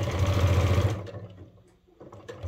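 A sewing machine backstitches the seam of an upcycled sling bag, one loud, rapid steady run of stitching lasting about a second, then stopping into quiet, with a faint restart at the end.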